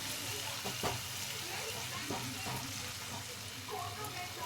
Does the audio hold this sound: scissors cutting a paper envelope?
no